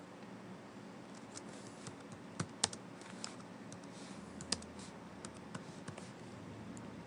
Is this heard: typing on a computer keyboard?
yes